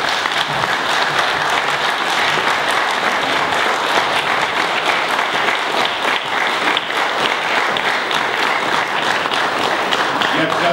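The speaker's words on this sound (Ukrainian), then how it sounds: "Казали при Брежневі продовжительні і бурні аплодисменти, так?" Long, stormy applause from an audience at a Ukrainian regional administration gathering in Zakarpattia, a dense unbroken roar of clapping hands that stays loud and steady for more than ten seconds.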